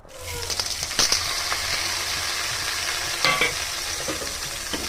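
Grated beetroot with chillies and chana dal sautés in a pan, giving a continuous frying sizzle broken by a few sharp scrapes and knocks of stirring, with no talking.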